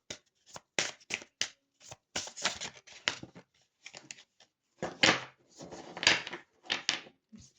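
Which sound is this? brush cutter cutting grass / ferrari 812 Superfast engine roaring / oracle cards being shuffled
oracle cards being shuffled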